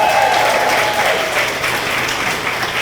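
A crowd claps steadily at a high school senior scholarship ceremony, in sustained applause, dense and fairly loud throughout.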